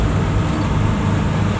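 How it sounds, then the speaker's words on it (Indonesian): A car speeds along a toll road near Rangkasbitung, a loud, steady wash of road and wind noise with engine rumble underneath, continuous and close, no talking. "Kencang banget nih mobil."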